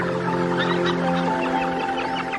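A seabird colony on Scottish sea cliffs in breeding season calls in a dense, overlapping chorus of harsh cries, loud and continuous over a steady tonal background.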